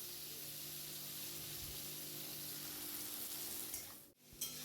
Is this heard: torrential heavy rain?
no